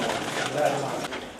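Pigeons in a loft give a soft, low coo against a steady hum of background noise, brief and moderately close.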